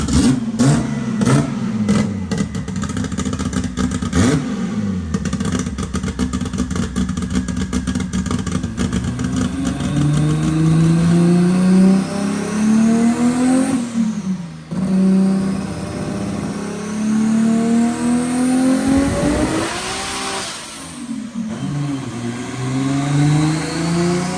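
A powerful drag race car engine at a drag race in Thailand revs hard and continuously, pitch sweeping up and down through repeated throttle blips, loud and close with no talking.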